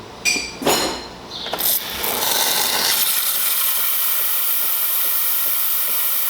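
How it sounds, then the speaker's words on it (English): A serviced Jura E8 coffee machine's steam wand opens with a few sputtering bursts, then settles into a loud, steady, close hiss that runs on alone. "And we'll test the steam."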